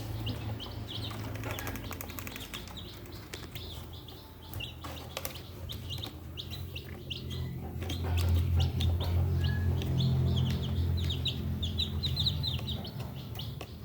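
High, thin peeping of newly hatched free-range chicks repeating in quick bursts, close by, over a low rumbling background hum.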